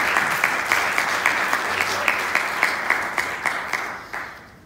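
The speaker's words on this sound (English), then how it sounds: "Let's have a big round of applause." An audience at a family office investment conference applauds after a session, steady full clapping with a few sharper claps standing out, tapering off toward the end.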